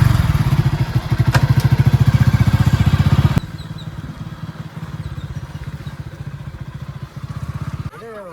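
A motorcycle engine thumps in a rapid, loud, pulsing rhythm up close, then drops to a quieter, steady chug as it settles and moves off, with brief speech near the end.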